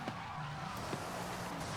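Bugatti Divo drifting in the racing game Forza Horizon 5, a continuous roar of engine and squealing tires at steady loudness with no voices.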